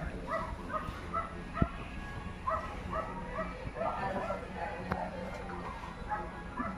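A dog gives scattered short yips and soft whimpers at close range, mixed in with people talking quietly in the background.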